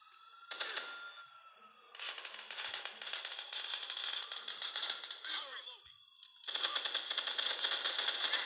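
Rapid bursts of automatic gunfire from a Grand Theft Auto–style crime shooter game set in New Orleans, rattling in dense volleys separated by brief pauses, with a final sustained stretch of firing.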